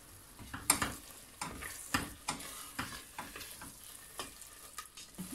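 Onions and kendime wheat roasting with spices in a pan for Erzincan tarhana, stirred steadily: soft sizzling under repeated scraping, rhythmic spoon strokes, close and fairly quiet.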